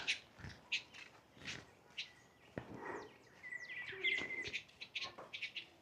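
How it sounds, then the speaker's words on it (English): Several bird calls ring out near a village school in Uganda, with sharp chirps and whistled notes in short bursts, some sliding downward, fairly close and clear over a quiet background. "কি সুন্দর পাখি wow can you tell me this bird name"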